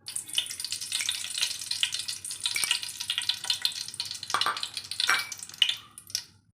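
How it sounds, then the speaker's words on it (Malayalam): Ghee poured into a hot pot for biryani sizzles and crackles steadily and close by, a bright, dense frying hiss running throughout with a few sharper spits near the end. "നെയ്യ് നമുക്ക് ഒഴിച്ചു കൊടുക്കാം."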